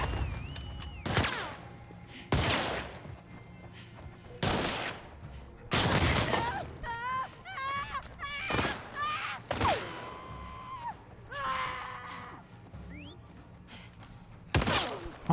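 Loud bursts of video game gunfire aimed at the player repeat at irregular intervals. Brief voices talk between the shots.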